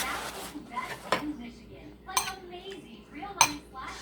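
Metal silverware clinking against a bowl while stirring homemade chili, several sharp scattered clinks and scrapes at close range, with some talk in between.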